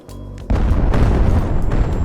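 Video game explosions on Misery hardcore difficulty: a brief tonal hum cuts to a loud, sustained booming rumble up close that lasts about a second and a half.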